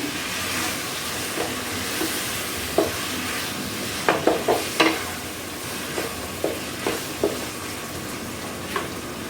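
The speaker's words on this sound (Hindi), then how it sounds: "कीमे को अच्छी तरीके से हम भूनेंगे।" Minced meat (keema) fries in oil in a pan, heard as a soft, steady background sizzle with scattered sharp clicks and taps of a utensil against the pan, with no talking.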